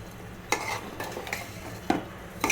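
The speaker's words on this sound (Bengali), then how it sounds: "এখন ভালো মতো নাড়তে থাকবো।" Stirring potatoes and radish stalks with dried fish in a pan for a Bengali chorchori, with several distinct scraping clinks of the utensil against the pan over a faint, steady background.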